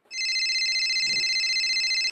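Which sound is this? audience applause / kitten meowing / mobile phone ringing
mobile phone ringing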